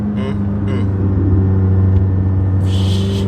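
A McLaren sports car engine rumbles low and steady from inside the cabin while driving, a thick constant drone with a faint hiss rising near the end, no talking.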